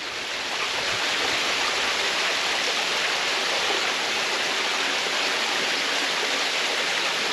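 Water rushes steadily over rocks in an Ozark stream, a loud, unbroken close-up roar with no voices.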